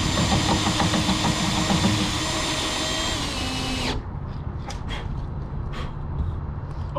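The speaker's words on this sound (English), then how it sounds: "Oh look, I used a drill." A power drill whines steadily at close range, then its pitch drops and it runs down, leaving a rumbling engine-like background with a few faint clicks.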